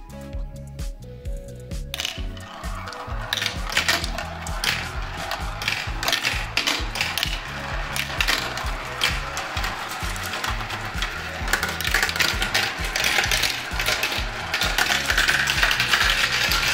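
A handful of marbles rattling and clattering down a plastic kids' marble run toy, a dense busy stream of quick clicks and ticks that builds and stays loud, close up with no talk.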